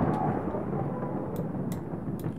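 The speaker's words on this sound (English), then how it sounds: "I'm tired of hearing the thunder every time I try to move something" Deep rolling thunder in the video game A Memoir Blue, a loud continuous low rumble throughout, with faint sharp ticks above it.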